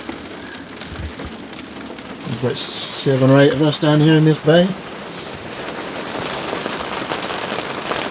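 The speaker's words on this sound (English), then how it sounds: "Poros in the rain." Steady rain patters on a boat lying at anchor in Poros bay, a dense, even hiss that continues throughout while someone speaks briefly partway through.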